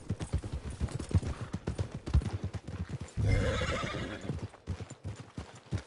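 Horse in the Red Dead Redemption 2 video game, hooves clip-clopping in a steady close rhythm and then a loud whinny midway before the hoofbeats resume.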